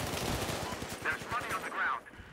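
Rapid gunfire rings out in the multiplayer shooter game Battlefield Hardline, a burst of repeated shots that ends in a couple of sharper ricochet-like cracks, with game sounds underneath.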